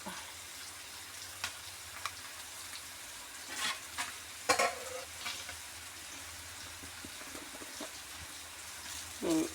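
Fenugreek and mustard seeds sizzle in a splash of hot oil in a pan on the stove, a faint steady hiss with a few crackling pops, while a voice speaks briefly.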